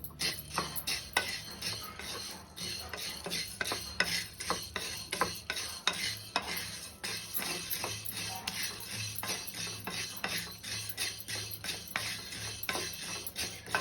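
Food frying in a pan is stirred steadily, a spoon scraping and clinking against the metal in quick, rhythmic strokes over a faint sizzle, close and continuous with no talking.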